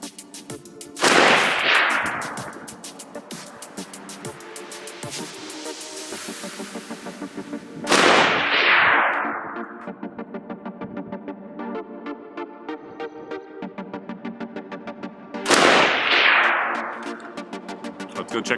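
Three loud, sharp rifle shots from a Century Arms C308 G3 CETME rifle ring out several seconds apart outdoors, each with a long echoing decay, over a steady rattling background.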